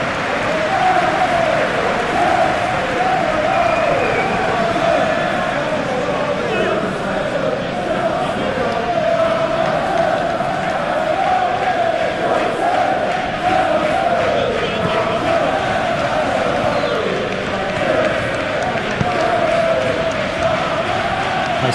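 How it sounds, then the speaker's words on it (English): A stadium crowd roars steadily in a simulated Premier League football match between Brighton and Chelsea, a loud, constant wash of cheering and chanting with a commentator speaking over it. "Maybe the crowd will stay a little quieter next time."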